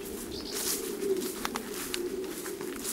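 Homing pigeons coo softly and steadily just after release from the loft following a 545 km race, a low continuous murmur of several birds close by with faint chirps above, no talking.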